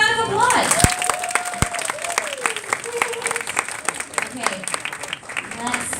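Convention audience at a fan Q&A breaks into lively applause and cheering, dense clapping running throughout with voices and whoops mixed in, briefly tapering before picking up again.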